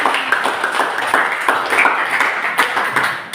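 Children in a classroom clap their hands together in a quick, scattered burst, the claps sharp and close, mixed with faint chatter.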